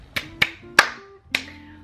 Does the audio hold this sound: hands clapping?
yes